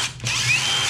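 A power tool runs in one steady, continuous burst for about a second, bolting a bracket to the underside of an upturned Corbo lightweight bolstered racing seat during a car build.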